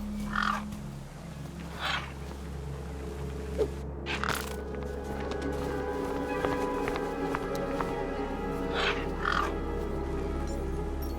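Birds in Beyond A Steel Sky let out several harsh caws at intervals over a steady low ambient hum, at a moderate distance.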